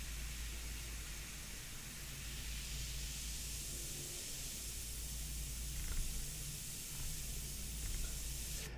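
An airbrush sprays India ink onto paper in a steady, close, unbroken hiss of air that holds even for the whole stretch.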